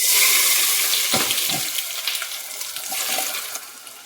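Hot fried tempering poured into kalan, a thick Kerala yogurt curry, gives a loud hiss that fades into a steady crackling sizzle, with a few sharp pops near the middle.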